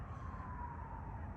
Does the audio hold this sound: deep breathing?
no